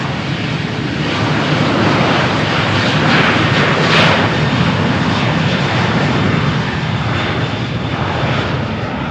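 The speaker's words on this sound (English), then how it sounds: "Norwegian flight cleared for takeoff." A Norwegian jet airliner takes off at Malaga Airport on a stormy morning, its engines producing a loud, continuous broadband roar that stays steady and powerful throughout, with no voices heard.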